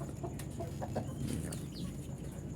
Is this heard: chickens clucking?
yes